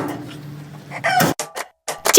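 Chickens at a poultry farm, with a rooster crowing loudly and hens clucking in close, repeated bursts, several sharp calls near the end.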